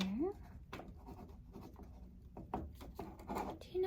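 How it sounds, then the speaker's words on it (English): A pen scratches across paper writing down a blood pressure reading in a quiet clinic-style setting, soft close strokes and taps. "Let me just write your blood pressure down here."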